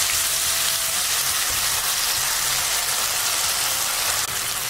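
Gongura (sorrel) leaves frying in an oiled pan, a dense, steady hiss and crackle of sizzling that holds loud and even throughout, with no voices.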